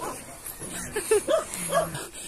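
A dog gives a few short, yappy barks and whimpers at close range, spaced irregularly over a quiet background.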